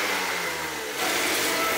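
Race engine swapped into a go-kart-powered racecar bed revs loudly and close, a steady drone that rises in pitch partway through, with no talking.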